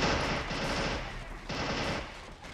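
Elite machine gun fire in the video game Men of War: Assault Squad, two long rapid bursts separated by a brief lull, loud and close with no talk over it.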